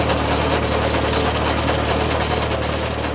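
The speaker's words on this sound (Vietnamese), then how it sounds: "chiếc máy phay đất và đánh luống này chạy không có ngày nghỉ" A soil tiller and bed-forming machine works a vegetable field, giving a steady, loud mechanical engine drone with rattling vibration that runs unbroken and close throughout.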